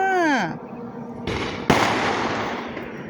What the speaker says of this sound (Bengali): ওখানে একটা প্লেট আছে আর এখানে বাজি ফাটছে